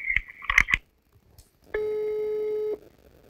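A phone call placed from a Russian real-estate office: a short burst of button tones, then a single steady electronic ringback tone lasting about a second, clear and close, with no voices.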